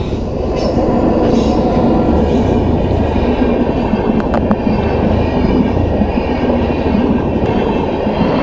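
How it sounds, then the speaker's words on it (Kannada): A train passing near Rameswaram on the way to Dhanushkodi: a loud, close, continuous rumble and rattle of railcars, with clickety-clack wheel rhythm and brief metallic wheel squeals. "time to watch the train"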